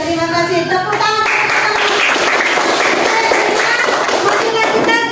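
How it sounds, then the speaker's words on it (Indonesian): A classroom of children applauds, steady loud clapping from many hands, with a teacher's voice and children's voices over the start. "Oke, terima kasih. Tepuk tangan."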